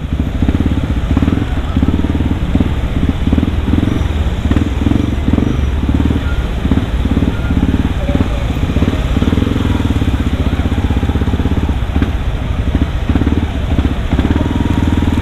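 Yamaha WR155R motorcycle engine roaring loudly and continuously while riding, a rough, throbbing drone with clattering texture throughout, close and steady with no speech over it.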